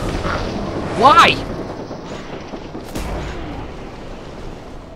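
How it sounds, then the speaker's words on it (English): A couple of sharp gunshot-like bursts from the companion Nick in the game Fallout 4, one with a rising whooshing sweep and another a second or two later, heard beneath someone speaking. "Why are you shooting at me?"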